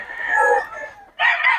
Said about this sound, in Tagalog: Ganda ng katawan ng mga manok ni Boss Tony, oh.